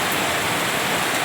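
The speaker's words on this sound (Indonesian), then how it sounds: "Ini cuaca kurang bagus ya, malah hujan." Rain falls in a steady, dense hiss outdoors while work is done on an all new Daihatsu Terios type X, loud and close, with no voices.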